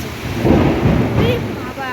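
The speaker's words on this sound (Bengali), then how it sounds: "কিভাবে বৃষ্টি হচ্ছে দেখেছো? সেই বৃষ্টি, বাবা মেঘ চমকাচ্ছে" Heavy afternoon rain pours in a steady roar while low thunder rumbles and swells through the middle, with a faint tonal sound rising briefly over the downpour.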